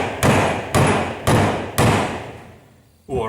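Hammer driving a chisel against an alternator armature inside an aluminium case, four sharp metallic strikes at an even rhythm, each ringing and decaying, then a fifth knock at the very end, close up.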